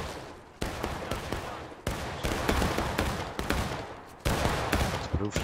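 A firing line of Civil War muskets goes off in War of Rights as an independent volley, shots cracking in ragged overlapping bursts that build into dense, loud gunfire lasting several seconds.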